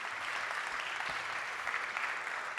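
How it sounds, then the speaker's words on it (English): Audience applause for Tom Blomfield and Eileen Burbidge at the close of a Monzo Q&A event, a steady dense clapping from a room full of people throughout. "Let's get one more big round of applause for Tom and Eileen"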